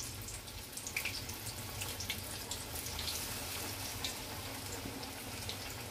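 Battered pumpkin pieces deep-frying in hot white oil, a steady hissing bubbling sizzle that holds at an even level throughout with no talking.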